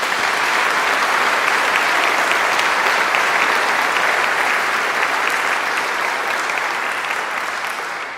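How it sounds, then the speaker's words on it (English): An auditorium audience at a literary prize ceremony claps steadily and loudly throughout, a dense, unbroken wash of applause that tapers slightly at the end. "let's just give a hand clap to those folks"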